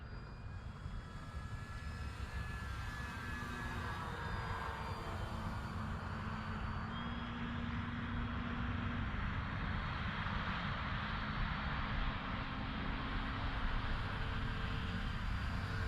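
An RC Tecnam 2010 model airplane flies at a steady distance, its electric motor holding a continuous buzzing drone with slight pitch drift throughout, outdoors in low light.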